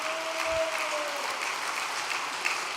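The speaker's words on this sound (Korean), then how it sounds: "하늘 부모님과 참 부모님께 영광의 박수를" An audience applauds at a Korean religious gathering, a dense, sustained wash of clapping from many hands that stays steady for the whole stretch, with a faint tone briefly audible early on.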